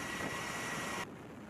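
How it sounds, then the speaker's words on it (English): Osprey military tiltrotor aircraft rehearsing a Super Bowl flyover above the stadium in New Orleans: a loud, steady broadband roar that cuts off abruptly after about a second, leaving quieter background noise. "So those were Osprey military helicopters rehearsing a flyover over the stadium in New Orleans"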